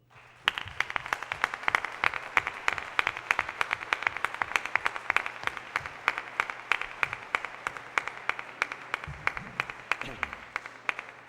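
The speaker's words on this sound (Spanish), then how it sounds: "Damos a ellos también un aplauso." An audience at a foundation's inaugural session claps rhythmically, individual sharp claps merging into fairly even, fast applause that runs for several seconds, with a few voices murmuring beneath it.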